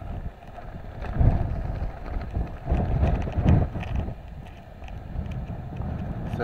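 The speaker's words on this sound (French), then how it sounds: "Il y a du vent." Wind gusts over a hilltop in the Ardèche, buffeting the microphone with uneven low roaring surges that swell and fade, and no one talks over it.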